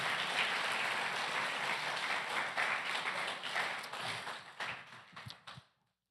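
A church congregation claps together in a full, even burst of applause that carries on for several seconds, then thins to a few scattered claps and stops abruptly.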